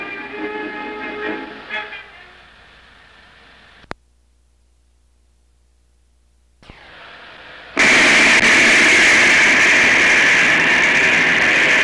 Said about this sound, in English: Lots of fun to watch the trains go by.